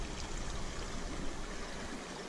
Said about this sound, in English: This is the other end where the water is coming out.